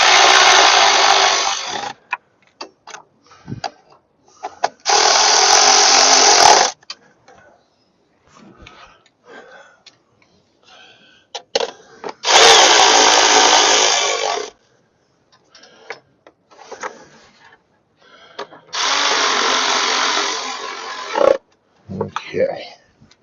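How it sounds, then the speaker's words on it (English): On a Gravely Pro Turn 160 with a Kohler engine, a power tool tightens the engine cover screws in four loud, steady whirring bursts of about two seconds each. Small clicks and knocks fill the gaps between bursts. "then we can tighten up these cover screws"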